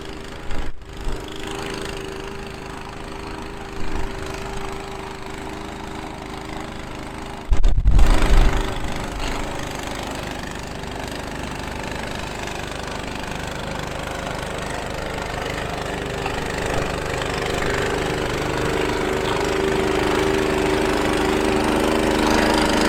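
A Toro Commercial Power TRX snow blower engine runs steadily outdoors in snow and slush, a constant loud drone with a brief louder burst early on, then holding an even, sustained roar.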